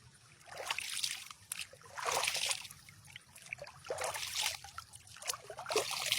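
Water trickles and splashes in a natural swimming pool in uneven bursts, soft and nearby, swelling and fading in irregular waves.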